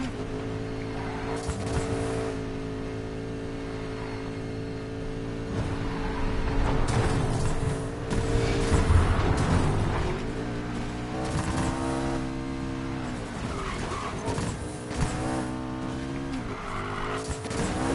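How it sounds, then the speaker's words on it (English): A McLaren 570S supercar in the Need for Speed Payback racing game squeals its tires while gripping the bitumen through a turn, a steady loud engine drone with rising screeching tire noise and no talk. "hear them tires just squealing as they grip to that bitumen around that turn there"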